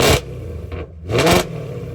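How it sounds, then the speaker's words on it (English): A 2024 Mustang GT with a full exhaust system gives two short, loud revs close by, each a sharp burst of engine roar separated by a brief dip and a fainter blip. "Give it a baby rev."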